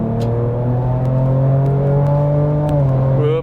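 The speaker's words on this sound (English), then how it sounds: "You can hear that exhaust noise, you can hear that engine noise." A Ford Ranger Raptor's engine and exhaust pull hard in sport mode, a loud, steady droning growl heard from inside the cab that climbs gradually in pitch, with no talking.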